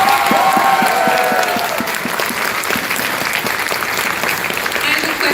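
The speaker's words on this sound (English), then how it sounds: "So give yourselves a round of applause." Audience applause at the closing ceremony of the Everfree event, a large crowd clapping steadily and loudly for the whole stretch, with some cheering mixed in.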